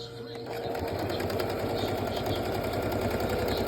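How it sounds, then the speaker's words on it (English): A sewing machine stitches denim jeans being altered, whirring at a steady, fast, close mechanical rhythm with low motor hum, while a person talks over it. "But I want you to see some of the sewing too, so I'm gonna try to do it with one hand"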